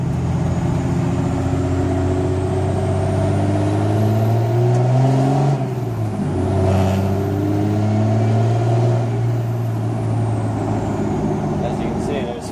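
A 2003-04 Cummins diesel truck on a maximum-level tune drones steadily and loudly throughout, its engine pitch sweeping up and settling again as it accelerates, with a brief dip in the middle of the run.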